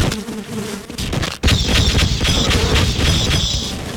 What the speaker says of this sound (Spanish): Porque es que el arma esta de las moscas es súper inefectiva en enemigos.